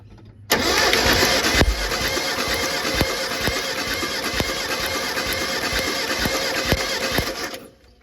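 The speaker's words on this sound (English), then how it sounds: "you can hear we got plenty of spark. Those leads are arcing out on the motor." A Mitsubishi Pajero 4G54 engine with timing chain problems cranks and runs with a steady mechanical drone, broken by sharp, regular snapping clicks of ignition leads arcing, then cuts off.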